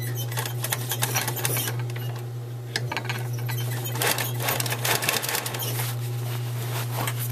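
A sewing machine stitching along the thick top edge of a fabric container, with a steady mechanical hum under rapid clattering needle taps in uneven runs, close by.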